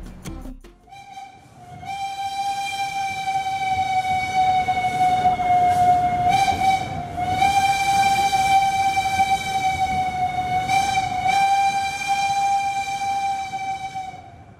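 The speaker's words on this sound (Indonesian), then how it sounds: "Ini adalah bangunan stasiun yang diperuntukkan untuk kereta Minangkabau Express atau kereta bandara Minangkabau" Minangkabau Express airport train at Padang station, Indonesia, sounding a long, loud sustained horn-like tone that holds steady for most of the stretch with slight dips, over a background of station rumble.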